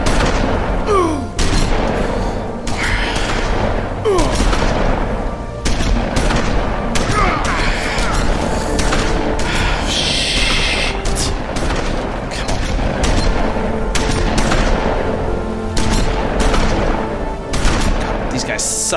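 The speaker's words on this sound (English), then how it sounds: "These guys suck at shooting shotguns." Dense gunfire from a firefight in the video game The Wolf Among Us, with repeated loud shotgun blasts and bursts crowding together for the whole stretch, a voice speaking now and then beneath the shots.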